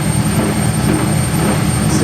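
An Indesit Ecosense washing machine spins at 600 RPM, giving a steady, close whooshing drum rumble with an even mechanical drone and a faint high whine, unbroken and without talk.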